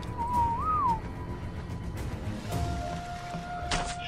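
A single wavering whistle tone rises and falls for under a second over quiet in-game ambience, followed by faint steady tones and a brief noisy burst; a whistle command sets tamed creatures to passive in the video game Ark.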